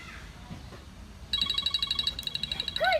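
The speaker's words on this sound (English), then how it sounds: "wherever the phone is in the house, if the dog hears it ringing" A phone rings in a house with a rapid electronic trill in repeated pulses, close and clear after a quiet start, followed by a brief voice.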